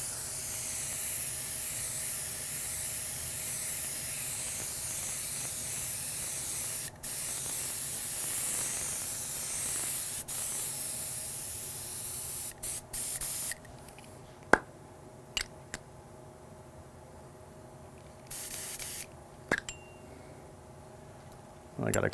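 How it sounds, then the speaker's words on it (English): A paint spray gun laying down candy paint, partly clogged and spraying a little dry, gives a loud continuous hiss that breaks off several times near the end into short spurts and pauses. "Spraying a little dry and I realized something was clogged on the gun itself."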